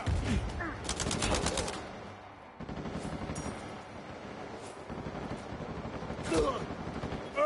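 Rapid bursts of automatic gunfire crackle in Uncharted 4 multiplayer, several volleys separated by short pauses and mixed with other game noise.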